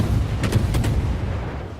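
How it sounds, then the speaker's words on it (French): Main guns of the Russian destroyer Kiev fire in World of Warships, two quick pairs of sharp booming shots over a dense engine rumble. "J'aime bien le bruit du moteur, le bruit des canons des Russes."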